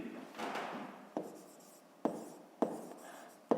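Hand writing during a fifth-grade maths exercise, with close scratchy pen strokes that start with sharp taps and come in a few separate bursts in a quiet room.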